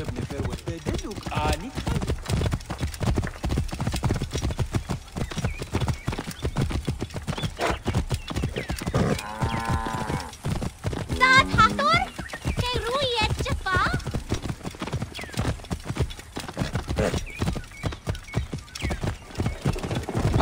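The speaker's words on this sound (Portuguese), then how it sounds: "Aquela égua é mais importante pro pai do que... do que todos os cavalos!" A racing mare's hooves gallop in a fast, continuous clip-clop in the video game Assassin's Creed Origins, with a loud whinny midway and voices talking over the pounding hooves.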